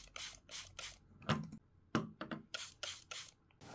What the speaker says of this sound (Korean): 특히 식물에 직접 닿는 칼이나 이런 가위의 날 부분에도 이렇게 분무해서 소독해 주는 것이 좋습니다